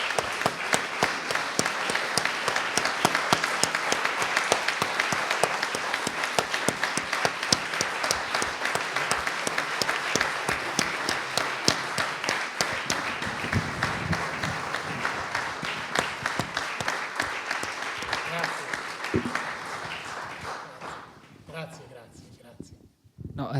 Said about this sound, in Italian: questo significa anche questo lungo applauso